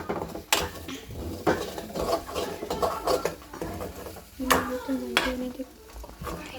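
Egg curry being stirred and mixed in a pan, with close scraping and clinking of a utensil against metal in irregular strokes, joined by intermittent talking.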